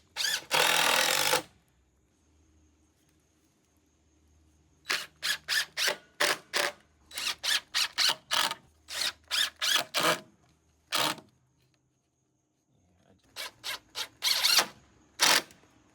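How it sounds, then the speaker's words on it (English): A drill countersinks screw holes in wood in short, sharp whirring bursts, some single and many in quick rapid series, with near-silent gaps between them, close and clear. "I always like to countersink them just a little bit."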